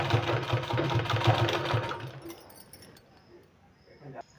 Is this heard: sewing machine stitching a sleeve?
yes